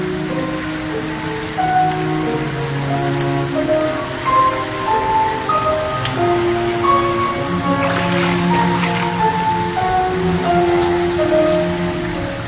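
Heavy rain pours steadily onto a flooded street in Phan Thiet, a dense, continuous hiss and patter of drops on standing water with no voices, loud and close throughout.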